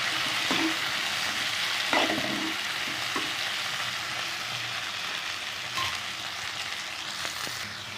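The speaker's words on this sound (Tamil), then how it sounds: "தக்காளியும் போட்டுக்கலாம் ஒரு நல்லா ஒரு பத்து நிமிஷம் வந்து நம்ம தக்காளி வதக்கி வச்சுக்கலாம்" Tomatoes sautéing in a large pan for garlic kuzhambu, giving a continuous moderate sizzle with occasional stirring scrapes and soft clinks, close by and free of speech.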